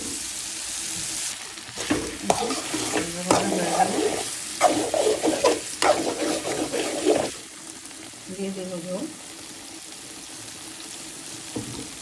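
Frying in a pan while cooking a Bengali hilsa curry with taro and potato, bursts of sizzling and stirring scrapes with some water splashing, then a quieter stretch with a brief voice near the middle.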